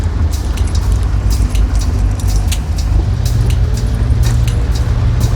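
A 1968 BMW 2002 car on the move, steady low engine and road rumble filling the cabin with broadband wind and tire noise, occasional faint rattles on top, continuous and fairly loud with no talking.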